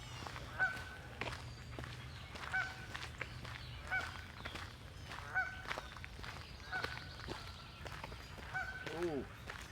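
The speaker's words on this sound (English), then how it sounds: "Some of those ducks and things are noisy this morning." Geese and ducks honk repeatedly through a morning walk outdoors, loud calls recurring every second or two over a steady low background hum, with footsteps and occasional voices nearby.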